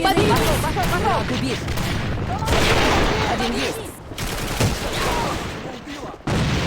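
Sustained gunfire barrage in the online shooter AVA, dense overlapping shots and booms rolling on loudly with brief gaps, mixed with game effects.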